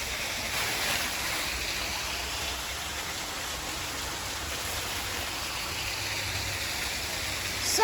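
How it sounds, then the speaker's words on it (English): Moss Rock waterfall pours with a constant, broad rushing roar, close and unbroken throughout. "Just two ways to enjoy the beautiful waterfall."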